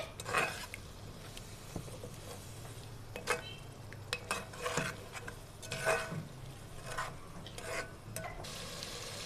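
Utensils scrape and clink against a pan of spices with a little water in irregular strokes, with a low steady sizzle of frying underneath throughout.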